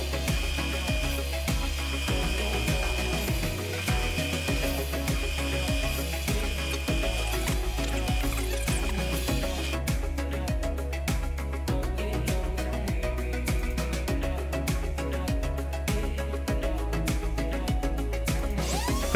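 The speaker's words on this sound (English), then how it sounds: "I then used a plug cutting drill bit to cut plugs out of a scrap piece of pine I had lying around." A plug cutting drill bit bores plugs out of a scrap piece of pine, giving a steady, close, rhythmic grinding whir with regular repeating pulses throughout, alone without talk.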